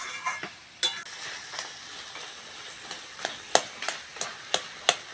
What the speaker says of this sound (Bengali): মশলার সঙ্গে বন্ধুরা মোচাটা ভালো করে কষে নেবো